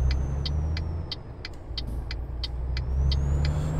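A truck pulling away in Euro Truck Simulator 2: a steady low engine rumble runs throughout, with a rhythmic series of high ticking clicks on top.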